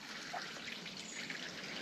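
Water trickling faintly from a stone spring with a mossy waterfall, a soft continuous wash and patter heard quietly in the open air.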